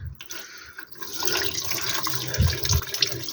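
Water runs and splashes over car brake parts, rinsing off a corrosive cleaning product during rear disc and pad replacement on a Nissan 350Z; a steady, close spray with a couple of heavier gushes.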